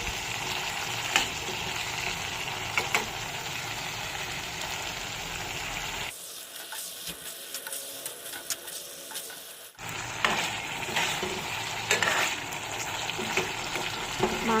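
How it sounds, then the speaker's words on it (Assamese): Chicken and pumpkin fry together in a pan with a steady, close sizzle and crackle broken by stirring clinks. The sizzle drops to a quieter hiss midway for a few seconds, then returns at full strength. "মাংসখিনি ধুনীয়াকৈ ফ্ৰাই হৈ গৈছে দেখিছেনে পুৰা ৰঙা ৰঙা হৈ গৈছে"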